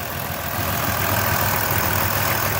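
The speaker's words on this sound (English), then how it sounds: "It idles smoothly." A 2002 Dodge Grand Caravan Sport wheelchair van sits idling, its engine giving a steady, even hum with a broad noisy rumble close by and no voices.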